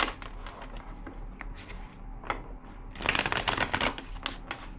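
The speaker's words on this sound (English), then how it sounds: "2 more shuffles." A deck of cards is shuffled in quick riffling bursts, with a louder flurry near the end, close up and without talking.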